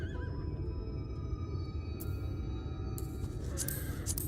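A horse mount whinnying in Final Fantasy XIV, a faint neigh over a steady low game background hum, with a few brief sharp clicks, no talk.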